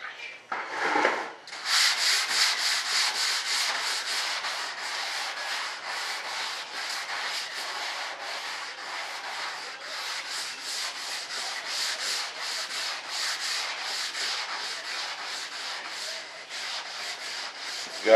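Steady hand sanding with 220 grit sandpaper on a radio-controlled jet model build, a continuous close scratchy rubbing in quick back-and-forth strokes, loud and alone for the full stretch.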